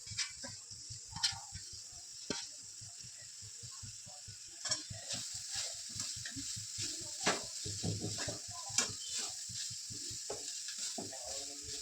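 Grated carrots for gajar halwa sautéing in ghee, a soft steady sizzle broken by repeated spoon scrapes and stirring knocks at an uneven rhythm, close and fairly quiet.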